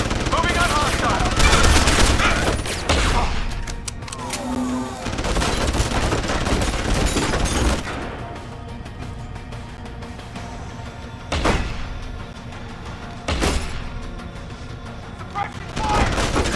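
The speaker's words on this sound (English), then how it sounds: "Suppression fire." Bursts of suppressing gunfire crackle through a firefight at Omega Ranch in Deus Ex: Human Revolution, rapid volleys alternating with sharp single reports, mixed with voices and game noise.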